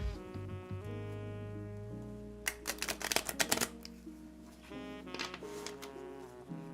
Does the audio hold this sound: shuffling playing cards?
yes